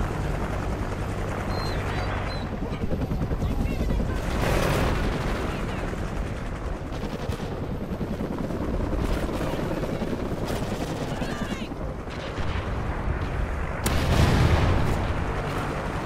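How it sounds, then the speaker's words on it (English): Helicopter flying in the Call of Duty: Ghosts video game, a steady rotor drone running throughout amid dense gunfire, explosions and battle noise, with a louder burst near the end. "Friendly chopper inbound."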